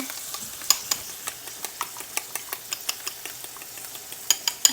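Ingredients scrambled in a pan like scrambled eggs, a rapid, regular series of light scraping strokes of a utensil against the pan over a soft, faint sizzle.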